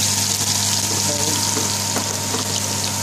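Garlic sizzling in hot vegetable oil in a pan for a Bangladeshi tomato fish dish, a steady close crackle running the whole time with faint stirring underneath.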